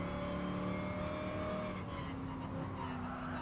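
Race car engine in Gran Turismo Sport revving hard under acceleration, a loud continuous drone with steady harmonic tones and some tire noise, heard alone with no talking.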